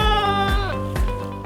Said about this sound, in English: We also welcomed some friendly boar goats on one of our construction sites